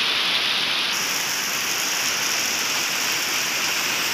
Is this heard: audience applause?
no